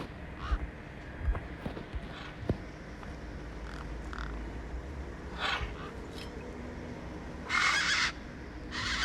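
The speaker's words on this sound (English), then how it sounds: "These were tough desert birds." Tough desert birds in the video game Beyond a Steel Sky, with a few harsh, crow-like calls standing out over a steady ambient bed, the loudest burst coming near the end.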